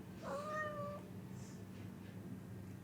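A single short house cat meow rises and falls in a quiet indoor room, faint and slightly distant over a low background hum.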